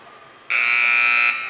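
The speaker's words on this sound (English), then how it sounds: "And there's the buzzer." A hockey arena's period-end buzzer at a high school game sounds one loud, steady electronic blare for nearly a second, then cuts off and leaves low crowd hum.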